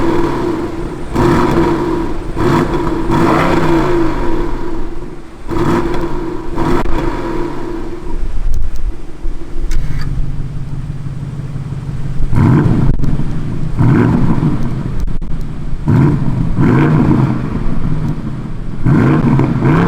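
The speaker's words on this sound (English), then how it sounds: "I'm gonna start up the engine on comfort mode, then switch it to sport mode, so you can hear some of the exhaust notes of the new updated engine" A 2021 BMW M550i xDrive facelift V8 starts and revs in comfort and then sport mode, loud repeated exhaust blips and roars with idle gaps, close to the microphone and with no talk.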